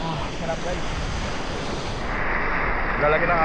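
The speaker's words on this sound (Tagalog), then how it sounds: "Lalaki ng alon." Big ocean waves roll and crash continuously at Laki Island beach in Mariveles, Bataan, mixed with loud wind buffeting the microphone, and a faint voice calls out briefly.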